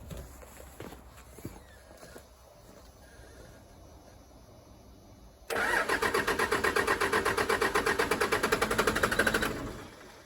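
A 1996 Dodge Ram 2500 with a Cummins 12-valve diesel cranks over after quieter rustling, a steady rapid pulsing churn lasting about four seconds, loud and close, then stopping without catching.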